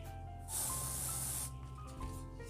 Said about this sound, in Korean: 그래서 유핀으로 꽂으실 때는 스프레이를 꼭 뿌려주셔야 돼요